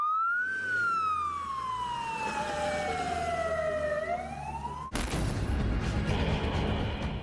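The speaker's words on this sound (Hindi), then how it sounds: "सायरन बजने लगे।" An emergency air-raid siren in Ukraine during a Russian missile attack sweeps down slowly then rises again, loud and continuous, before cutting into a harsher, noisier blaring tone.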